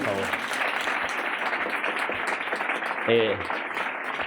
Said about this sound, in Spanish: esta frase se merece un aplauso